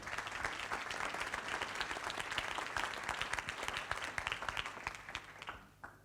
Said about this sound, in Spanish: démosle un fuerte aplauso por esta presentación